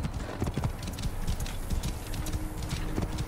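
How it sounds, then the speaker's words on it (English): Horse hooves clip-clop in Assassin's Creed Origins, a steady rapid clatter of footfalls over a dense, continuous game soundscape, close and even in level throughout. "We'd watch the horse spawn."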